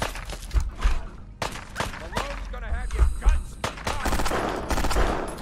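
Pistol shots from the video game Fallout 4 fire in rapid, irregular bursts, loud and close, with players talking among the gunfire.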